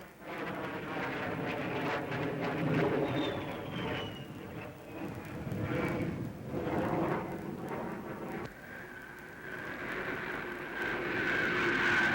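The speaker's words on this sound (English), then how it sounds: "The supersonic Étendard is claimed to be at least the equal of any first-line jet in the air today." A Dassault Étendard supersonic jet flies past in a 1950s newsreel, giving a sustained loud engine roar with a rising whine that swells, dips and builds again.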